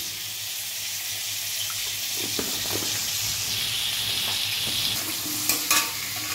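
Potato pieces fry in a pan with turmeric, salt and ground coriander, giving a continuous bright sizzle close by, with a few soft stirring knocks and a brief clatter near the end.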